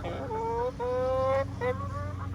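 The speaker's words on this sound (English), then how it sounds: "My chickens are" Chickens give drawn-out, tonal clucks and calls on a hot day, two or three in sequence, fairly close over a steady background hum.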